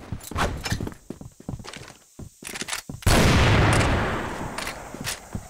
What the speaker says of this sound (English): Flash bomb. Smoking bomb.